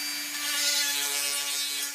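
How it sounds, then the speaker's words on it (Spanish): Sanding along the edges of a recycled wind turbine blade, a steady abrasive rubbing that holds an even, fairly loud level for about two seconds with no pauses and no talk. "Bien, pues ahora voy a lijar las orillas."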